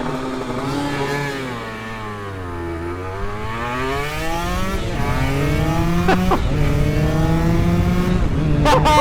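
A two-stroke 250cc sport motorcycle, a Honda NSR250 or Suzuki RGV250, revs loudly and close, its crackling engine note dropping then climbing through sweeping gear changes with brief blips near the end.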